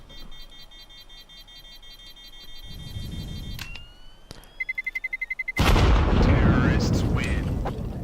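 Pistol shots ring out in a Counter-Strike 2 match, sharp cracks followed by a rapid burst of evenly spaced shots, then a loud roaring surge of noise that swells and holds, with game sounds layered throughout.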